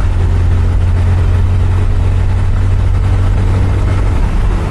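Motorbike cruising at about 70, with a continuous low engine roar and heavy wind noise pressing on the microphone, steady and close throughout.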